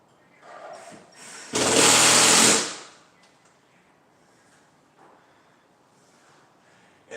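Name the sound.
power drill driving sheetrock screws into wood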